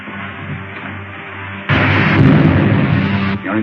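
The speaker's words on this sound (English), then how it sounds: "Fire a blast into the tail surface as I level out." A blast strikes the tail of a spaceship in an old Flash Gordon serial, a sudden loud crackling burst that roars steadily for almost two seconds over a droning engine hum before cutting off.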